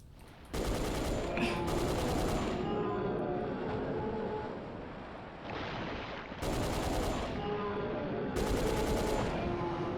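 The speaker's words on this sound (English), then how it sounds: "Heavy machine gun." Heavy machine gun fire in Dino Crisis 2, loud sustained bursts of rapid shots with brief pauses between volleys, dense and continuous over a rumbling game background.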